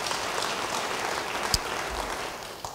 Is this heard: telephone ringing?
no